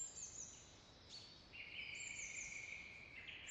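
Faint, distant birdsong in a quiet outdoor nature setting near water, with thin sustained whistled notes and chirps over a soft, steady background hiss.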